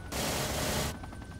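Automatic gunfire in the military video game ARMA: one dense, unbroken burst lasting almost a second, loud and close, followed by a few fainter trailing pops.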